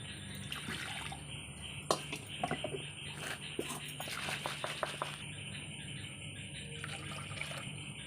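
Fish being washed in water by hand, with soft splashing, dripping and scattered clicks of pieces knocking together, quiet and continuous over a low steady background hum.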